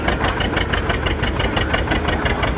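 A 1955 John Deere 80 tractor strains at a 2019 tractor pull in Lafayette. Its engine pounds out a loud, rapid, even chugging beat, close up and continuous, with no talking.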